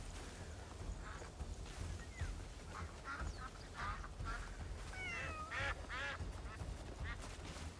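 Ducks quack in a cozy cat-exploration video game, several short nasal calls scattered over a soft ambient background, with a few louder bursts near the end.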